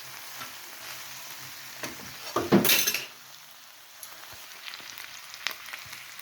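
Chilli chicken stirred in a hot pan, sizzling and frying with a spoon scraping and clinking against the metal, one louder scrape burst in the middle, no voices.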